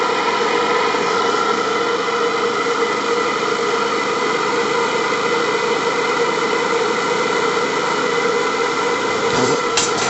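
An FBI AL5 live-steam model engine runs on its two gas burners, giving off a steady, even hiss and mechanical whir that holds at one level from start to finish without pause.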